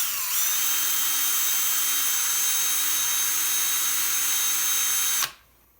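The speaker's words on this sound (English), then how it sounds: "This is a faulty drill bit." A power drill with a faulty drill bit whines loudly and steadily for about five seconds at close range, then cuts off abruptly, leaving quiet.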